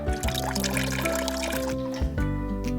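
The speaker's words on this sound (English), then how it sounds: "Now we just need to use this water to go into our cups." Water pours into cups for a color-changing flowers experiment, a loud, close stream with splashing and gurgling that rises in pitch as each cup fills, briefly stopping and restarting.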